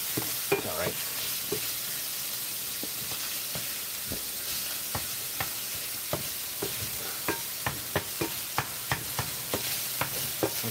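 Sausage frying in a pan, a soft steady sizzle broken by irregular sharp pops and scrapes of stirring, close and fairly quiet, with no talking.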